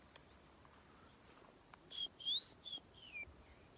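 A small bird known locally as abre-fecha calls at a reservoir in Ceará, Brazil, giving a quick series of four or five thin, high whistled chirps, faint against a quiet outdoor background with a few soft clicks.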